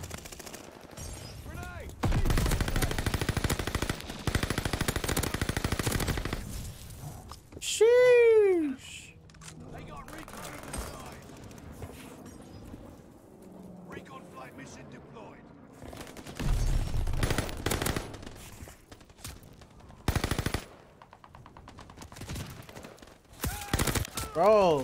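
Marco 5 SMG firing in Call of Duty Vanguard, several loud bursts of rapid automatic gunfire separated by quieter stretches, with someone talking over much of it.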